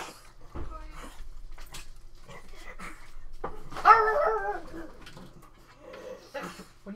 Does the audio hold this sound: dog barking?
yes